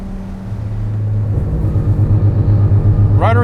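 Rotary-engined car running rough at low RPM, a loud close engine drone with a lumpy, uneven pulsing rhythm and a brief higher sound near the end.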